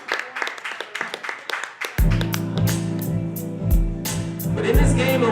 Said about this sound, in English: please, round of applause for yourself